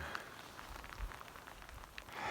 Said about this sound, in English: Even with the rain.